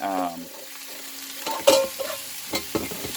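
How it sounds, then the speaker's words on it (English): Chicken and vegetable stir fry, made with leftover rotisserie chicken, sizzles in a hot pan while a utensil stirs and scrapes in irregular bursts, close and moderately loud, with a short voice at the start. "It's stir fry vegetable with chicken. So it's pretty much done, you know, once it heats up."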